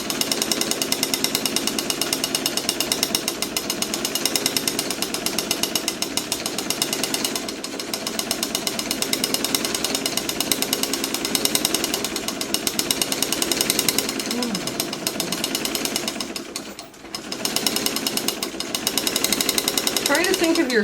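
A quilting machine with a plastic foot stitches in a rapid, continuous mechanical hammering rattle, loud and close, with a short pause near the end and talk over it.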